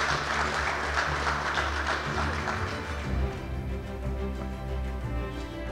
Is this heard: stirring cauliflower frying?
no